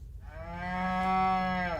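Cow mooing on a farm in the cartoon Ben 10, a single long, loud, sustained moo with a rising, steady tone that swells and holds for nearly two seconds, alone without talk.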